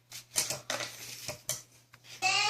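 A fork stirs a cracked egg in a bowl while coffee bun dough is being made, giving several quick, close clinks against the bowl and ending in a longer burst of scraping.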